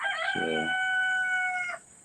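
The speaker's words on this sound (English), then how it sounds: "Love to hear the rooster crowing." A rooster crows nearby in one loud, drawn-out call that starts sharply and holds a steady tone for over a second before cutting off, with a single short spoken word at the beginning.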